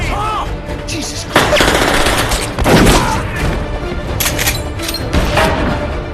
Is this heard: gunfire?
yes